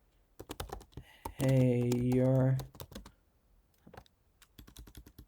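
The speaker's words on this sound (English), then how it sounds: "if I can type properly" Quick, crisp clicks of fingers typing on a computer keyboard while writing C++ code come in bursts, with a short spoken word in the middle.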